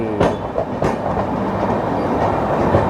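Jharkhand Sampark Kranti passenger train rolling slowly out of a loop line near Tundla, with steady wheel rumble and rhythmic clickety-clack over rail joints, heard close from inside the coach with a few sharper knocks.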